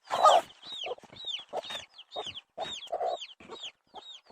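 Repeated high, short chirps and peeps from a trapped chick, coming in quick bursts with softer clucking underneath, fairly close.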